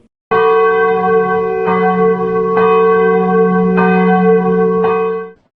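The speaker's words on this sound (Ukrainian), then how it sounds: "сигнал хімічної небезпеки, звук церковних дзвонів" Church bells sounding as a chemical hazard warning signal, with loud sustained ringing tones and fresh strikes landing about once a second for over five seconds, alone without talk.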